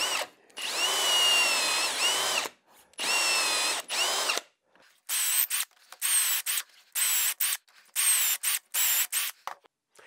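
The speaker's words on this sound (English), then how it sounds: "There's those 3 holes that I just drilled" A power drill bores dowel holes into a wooden board. Two long, high whining runs are followed by a string of short, choppy bursts separated by silence. The drill is close and there is no speech.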